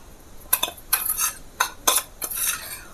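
A metal spoon repeatedly clinks against a bowl while rice flour is spooned into batter, about five bright, close taps in an uneven rhythm, with no speech.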